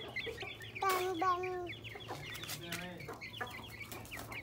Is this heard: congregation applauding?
no